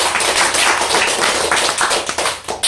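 Dense audience applause at a church sermon, loud and continuous for its full length with rapid overlapping claps and no voices.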